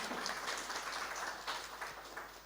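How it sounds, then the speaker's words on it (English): Applause from a conference audience at a women in financial markets event, a steady dense patter of many hands clapping at moderate distance, fairly soft and continuous with no voices over it. "That requires a round of applause"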